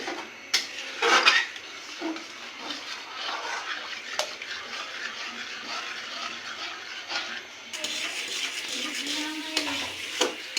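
Spoon stirring pitha batter sweetened with sugar and jaggery in a pan for winter patishapta, with steady scraping and clinking strokes close by, a few louder knocks, no talk.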